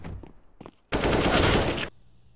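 A single sustained burst of rapid automatic gunfire in a video game, loud and close, lasting about a second, with faint muffled sounds before it and quiet afterward.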